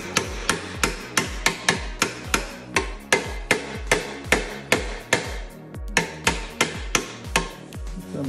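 Snowblower impeller tapped into place with a hammer, a long run of sharp metallic strikes at a steady quick rhythm, close and fairly loud, a short pause near the end before the blows resume.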